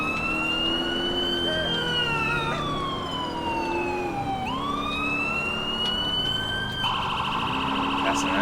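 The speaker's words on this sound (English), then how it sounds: "That's an ambulance." An ambulance siren in the police-patrol game GTA IV with LCPD:FR wails continuously, sweeping up and down in pitch with the harmonics gliding downward, then switches to a faster yelp near the end, loud over a steady engine drone.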